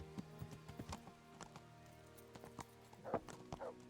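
In Kingdom Come: Deliverance, a horse's hooves clip-clop at a walking pace with a steady rhythm of sharp, close knocks over a quiet humming background, with a brief snort-like burst near the end.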